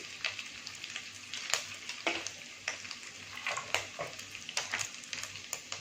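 Ginger and cinnamon sauté in a pan of hot oil for semiya (vermicelli) upma, giving a steady close sizzle with frequent sharp crackles and pops and a faint low hum beneath, with no voices.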